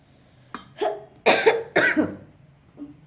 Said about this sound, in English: I have too much cough today.